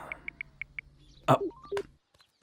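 A quick series of about five evenly spaced telephone keypad dialing tones, followed by a short burst of warbling beeps and a brief chirp, fairly quiet.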